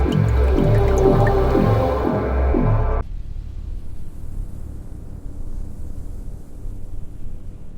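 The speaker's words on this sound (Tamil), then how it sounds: "அந்த சத்தம் கிச்சன் சிங்க் பைப்பிலிருந்து வந்தது." Water drips from a kitchen sink pipe in a rhythmic run of close, repeating drops, then gives way to a faint, steady background hum.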